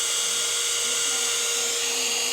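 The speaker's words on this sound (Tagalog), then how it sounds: "Ah, pang dryer. Guys, pang dryer lang siya." A handheld hair dryer runs steadily on its low setting, a continuous airy whoosh with a faint whine, close and even throughout with no talking over it.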